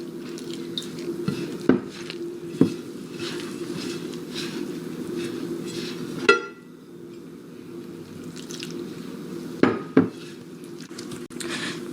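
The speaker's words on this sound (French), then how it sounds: "Je mélange. J'ajoute de l'eau petit à petit." Brioche dough being mixed by hand in a bowl while water is added little by little, soft continuous stirring and scraping punctuated by several sharp clinks of utensil against the bowl.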